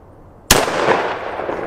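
A single sharp gunshot fired at a shooting target cracks out loudly after a brief quiet, followed by a lingering echoing tail.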